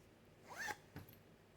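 Zipper on a handmade sewn fabric pouch pulled open and then closed, two short quiet rasping runs close by, the first longer and the second brief.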